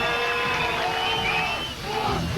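Crowd cheering at a World Strongman Cup event in Poland, a loud sustained roar of voices and whoops with a brief dip partway through, filling the entire stretch.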